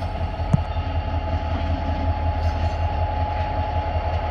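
CSX GP40-3 diesel locomotive No. 6520, a remote-control-capable yard switcher, rumbles past with a steady low drone and rail clatter, a brief sharp clank early on, no voices.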